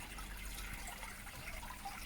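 Steady splashing and trickling from a back garden IBC koi pond, where pumped water pours back down over a shower filter, forming a constant close wash of water with no voices.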